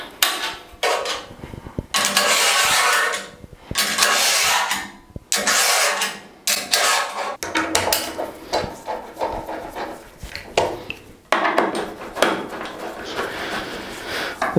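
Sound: driving screws into wood

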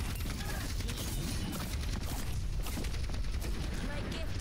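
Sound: gunshots in video game Overwatch

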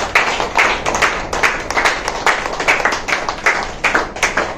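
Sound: audience clapping

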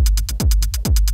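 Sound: closed hi-hat MIDI pattern played back

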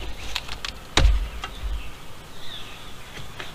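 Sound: honey bees buzzing at opened hive

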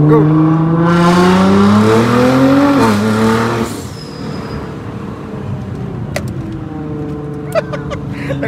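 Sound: car engine revving loudly at a car meet

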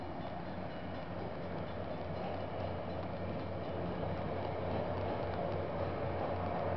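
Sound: train passing by

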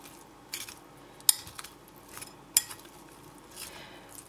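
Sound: stirring salad with cutlery in a bowl

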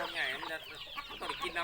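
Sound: chickens clucking

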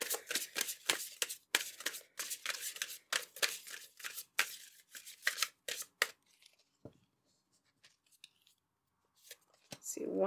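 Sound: shuffling tarot cards

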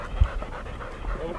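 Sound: hunting catch dog panting during wild boar hunt

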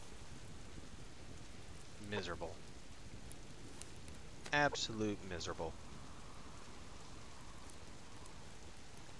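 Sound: rain falling in video game Subsistence

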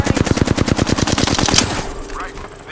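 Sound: gunfire in the video game Apex Legends

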